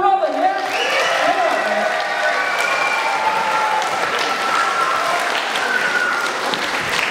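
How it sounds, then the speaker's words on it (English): An audience at a children's variety show claps and cheers as a performer comes on stage, a loud, dense burst of applause with scattered shouts and whistles that carries on steadily, with voices mixed in. "we're going to give you a big clap and cheer now as you join me on stage"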